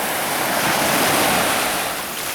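Steady, continuous roar of sea surf washing onto the shore, loud and close with a constant broadband wash and light wind noise, no voices.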